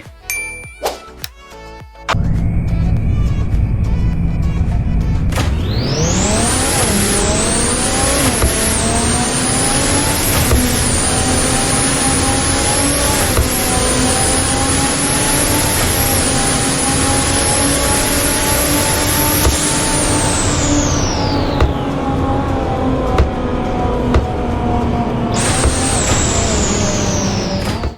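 Nissan GT-R R50 engine in the video game Car Dealership Tycoon, starting with a low idle, then a loud sustained rev with a rising whine and steady high-pitched tone for about fifteen seconds, dropping off and flaring again near the end.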